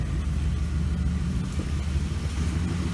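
A 2008 Ford Expedition's 5.4-liter V8 idles quietly and steadily, a low, even rumble with no revving, heard alone and up close.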